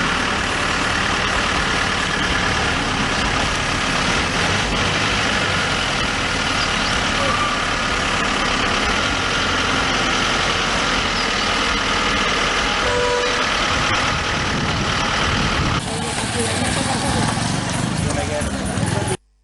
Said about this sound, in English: This is the Nazigama bus stand.